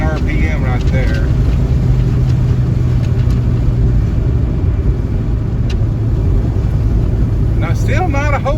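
A car engine held at about 4,000 RPM while Sea Foam cleaner burns off and smokes, giving a loud, steady, continuous drone with someone talking over it.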